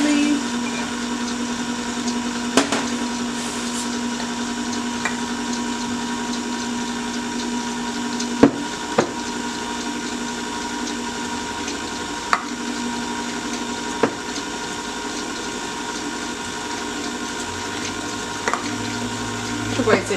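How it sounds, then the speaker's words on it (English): A mixer whirs steadily as sugar is stirred into a whipped lavender sugar scrub, a constant humming drone with occasional light knocks, and someone talks over it. "now I'm ready to stir in my sugar"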